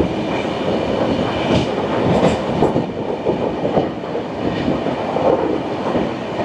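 Kriya Yoga Express passenger train rolling steadily around a curve on its Howrah to Ranchi run, with a continuous close rumble and rhythmic clickety-clack of the wheels, and no voices.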